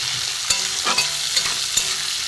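Chopped onion and tomato fry in a little oil for a chicken curry, a steady close sizzle broken by a few soft stirring scrapes, with no one talking.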